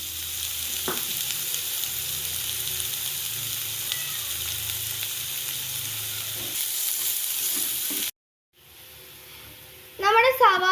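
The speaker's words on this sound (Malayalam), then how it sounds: "നമ്മൾ കൊത്തി എരിഞ്ഞു വെച്ച സവോള ചേർക്കാം. കുറച്ച് ഉപ്പും കൂടെ ചേർത്തിട്ട് ഇതൊന്ന് വരട്ടിയെടുക്കാം." Chopped onion with cumin and salt sautéing in a pan for a beans masala curry. A steady close sizzle cuts out abruptly near the end, then a brief voice is heard over faint frying.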